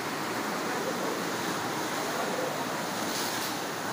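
High sea waves surge onto the coast at Labuan, Pandeglang, a continuous loud roar of surf mixed with wind buffeting the microphone.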